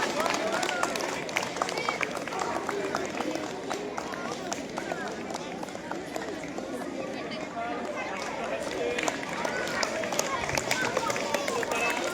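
A large crowd claps loudly and steadily at an outdoor high school annual sports day, a dense wash of hands mixed with crowd chatter that runs without a break.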